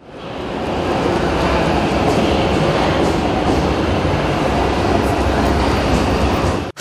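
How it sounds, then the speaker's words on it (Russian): A Samara metro train runs through the underground with a steady, loud rumble and roar that holds for the whole stretch, with no voices heard. "В самарской подземке курсирует поезд"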